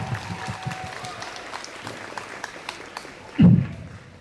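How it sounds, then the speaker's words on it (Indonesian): Scattered applause from students greeting the principal at an SMA Negeri 6 Palembang morning assembly for National Children's Day, light claps spread across the moment with one louder thump near the end. "Beri tepuk tangan untuk Bapak Kepala Sekolah kita"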